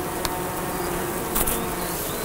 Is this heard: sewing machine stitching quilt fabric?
no